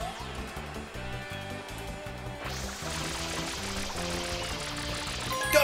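A steady rush of spraying water in the video game Super Mario Sunshine, with a rhythmic electronic beat underneath, the spray growing stronger partway through; no one speaks.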